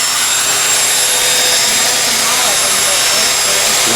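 Oil system of a small-block Chevy 350 engine being primed in a garage, giving a loud, steady, close whirring drone that runs without a break.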